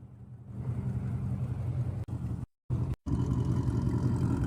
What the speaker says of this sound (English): The exhaust that this dude has on it, it sounds so bad.